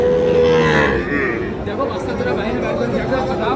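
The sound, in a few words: Sahiwal bull calves mooing at a cattle market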